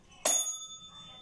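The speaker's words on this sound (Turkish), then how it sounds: "Böyle yapacak ve zilin sesi anlaşılacak." A single sharp strike of a bicycle-style bell on a manti mould, loud and close, rings out and fades into a shimmering tail over about a second.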